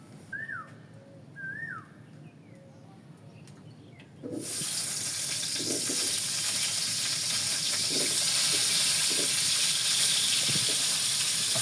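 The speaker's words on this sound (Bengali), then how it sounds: "আলুগুলো তেলে ভাজি করছে" Potatoes frying in oil in a village kitchen, a sudden loud hiss starting partway through and holding as a dense steady sizzle with occasional pops, preceded by quieter background with bird chirps.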